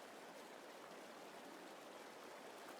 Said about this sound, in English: it's just the water running in the river.